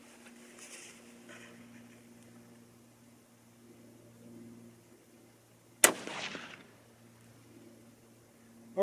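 A single sharp 22-250 Remington rifle shot firing Hornady 50 grain V-Max loads with Varget powder, a loud crack near the middle followed by a short decaying echo over a quiet outdoor background.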